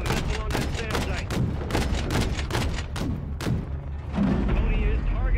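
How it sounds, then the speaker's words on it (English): Heavy gunfire and explosive impacts from an AC-130 gunship in Call of Duty: Modern Warfare 3 as it strikes an enemy SAM site, dense rapid thumps and booms in a steady barrage, loud and continuous, with voices talking over it. "Gunner, drop a missile on that SAM site."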